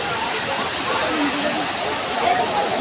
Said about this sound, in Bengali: এই দেখতে পাচ্ছেন বামনি ফলস, জল পড়ছে